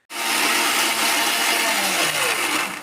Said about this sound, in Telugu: ఇవి కూడా వేసేసుకున్నాం కదా, ఇప్పుడు మిక్సీ పట్టుకొస్తాను.